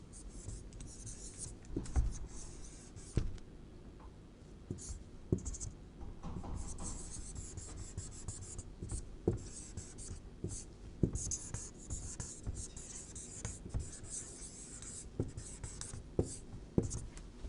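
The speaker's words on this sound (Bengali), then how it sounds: "আমি বাংলাতে লিখছি" Chalk or marker scratching steadily across a classroom board as Bengali script is written, with short strokes and taps, close and fairly quiet, with faint voice between strokes.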